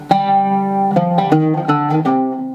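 An oud plays a short melody of about seven distinct notes, F G E F D E C, each attack ringing briefly before the next, close and clear with no voices.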